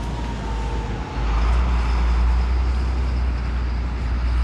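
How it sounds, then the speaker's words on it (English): A snow truck drives along a snowy Boston city street in winter, its engine a loud low rumble that swells after the first second and holds steady amid broad traffic noise. "Another snow truck."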